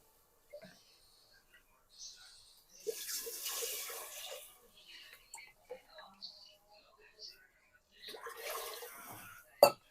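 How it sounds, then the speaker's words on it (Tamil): Water poured generously into a pan of pongal cooking over low heat, a soft splashing pour with faint trickles, quiet clatter and whispery voices around it. "தண்ணியை கொஞ்சம் தாராளமாக விடுங்க"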